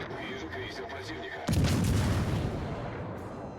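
A single loud naval gun blast in World of Warships Legends cuts through the ongoing ambient game sound and rumble of a ship, then trails off into a dull roar; a voice speaks faintly under it.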